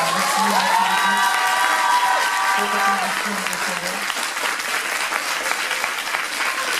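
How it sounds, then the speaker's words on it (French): Audience at a cosplay parade at a convention in Dijon applauds and cheers loudly and steadily, with whoops and children shouting mixed in, while a voice talks over the crowd. "Merci beaucoup les cosplayers, vous pouvez les applaudir."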